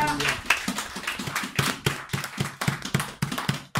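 A church congregation claps together in rhythmic, steady beats, loud and close, with voices mixed in under the clapping.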